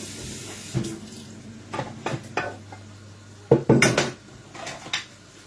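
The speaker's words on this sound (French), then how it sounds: "Je vais rajouter l'eau et on va laisser cuire tout doucement en feu doux." Water being added to a cooking pot brings clanks of pot and utensils, a brief pour and splash, then more knocks of metal, with no talk.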